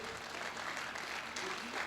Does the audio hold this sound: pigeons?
no